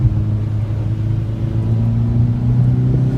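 A fast car overtaking on the Nürburgring, heard as a steady, loud engine drone with rising harmonics and road rumble throughout, close and continuous with no talk.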